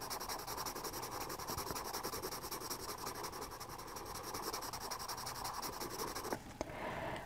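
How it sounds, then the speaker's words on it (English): An extra black graphite pencil, roughly a 6B, shades in a drawing of a squirrel's tail, making a steady continuous scratchy rubbing close up, which stops abruptly near the end. "Now I'm just going to take my darkest pencil, which is my extra black"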